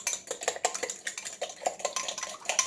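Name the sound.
stirring cracked eggs with a utensil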